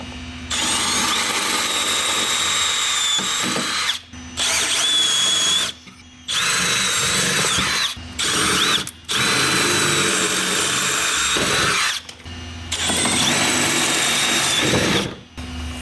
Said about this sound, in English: we're going to go ahead and remove the 4 black rivet heads that are connecting the left side plastic